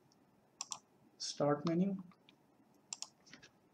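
Computer keyboard and mouse in use at a desk, with a few quiet, sharp clicks and key taps scattered before and after a short spoken phrase, close but faint.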